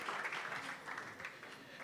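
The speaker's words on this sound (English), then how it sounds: "A round of applause." An audience at a tech conference session claps after a talk, a short, faint patter of applause lasting about two seconds.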